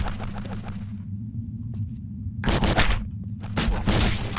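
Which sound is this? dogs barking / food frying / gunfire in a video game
gunfire in a video game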